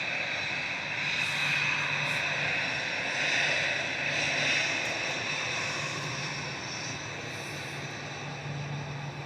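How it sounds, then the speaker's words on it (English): A 12-year-old Lufthansa Airbus A320 departing Manchester for Munich, a steady whining jet engine hum with tonal high-pitched components, fairly loud and continuous, gently rising and falling. "This is DAIZP, a 12-year-old A320 Classic."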